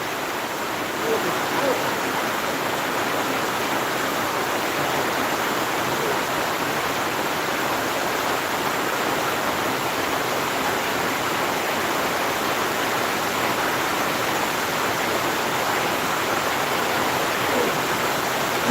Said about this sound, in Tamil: செம்ம மழை வருது தண்ணி ஊற்றுது பாருங்கள்